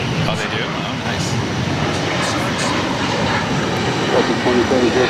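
A JetBlue Airbus A321 airliner taking off at Boston Logan, a loud sustained engine roar heard from a distance with voices talking over it.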